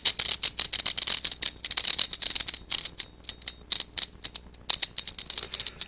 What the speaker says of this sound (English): So the clicking sound you hear is an intentional ratcheting they put in here.